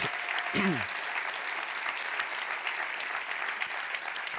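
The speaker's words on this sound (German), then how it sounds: "Und ich würde euch bitten, an dieser Stelle auch mal einen Applaus zu geben." Steady applause from a business summit audience fills the whole stretch, dense and even, with a brief voice-like tone near the start.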